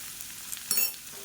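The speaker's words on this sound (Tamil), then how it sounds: "அதை நல்லா எண்ணெயில் வதக்கிக்கலாம்" Green beans sautéing in oil in a pan give a soft high crackle that swells once with a brief burst of stirring, quiet and close with no talk.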